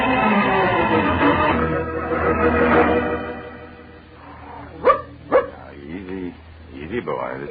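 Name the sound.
dog barking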